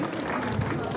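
Applause fills a cultural day event hall in Ikwuano, Umuahia, a dense continuous wash of many hands clapping at steady loudness for about a second.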